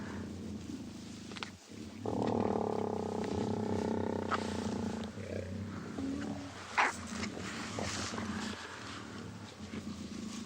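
Wild lions growl at one another on a private game reserve safari, a sustained rumbling snarl lasting several seconds at close range, with rustling and a sharp sound near the end.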